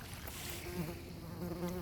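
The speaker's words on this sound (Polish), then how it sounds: "Yy, pszczoła." A bee buzzes close by with a wavering, droning hum that rises and dips, set against soft outdoor background noise at a hotel in Bodrum, Turkey.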